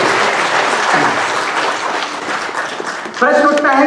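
Loud, dense applause from an audience in a hall during a talk program, sustained throughout, with a voice speaking over it near the end.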